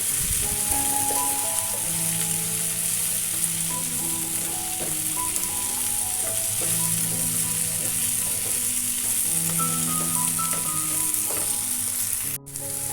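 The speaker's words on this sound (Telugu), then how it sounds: "ఇందులో మనం కట్ చేసుకున్న మష్రూమ్స్ వేసుకుందాం. 1 కప్పు. వీటిని బాగా వేయించుకోవాలి." Chopped mushrooms, one cup, frying in oil in a pan for a mushroom chana curry, a loud steady sizzle with crackling pops running the whole time, no one talking.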